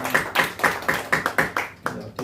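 A church congregation claps together in a steady rhythm, about ten sharp, evenly spaced claps ringing out in the sanctuary before the clapping trails off.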